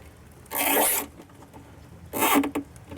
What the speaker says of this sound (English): Pop the zip tie on to keep the wire from drooping